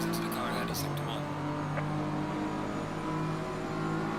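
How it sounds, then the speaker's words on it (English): Race car engine droning continuously in a racing video game on the Nurburgring, a steady loud mechanical hum with shifting pitch, overlaid by a person talking. "Listen to the car ahead, he's sector 1."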